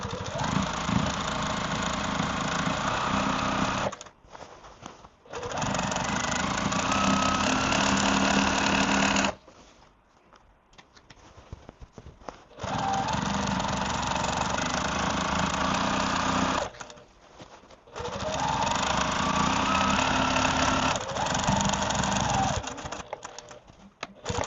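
A home sewing machine stitches a beginner Liberty quilt block in three long steady runs, each a loud close whir lasting several seconds, split by short pauses.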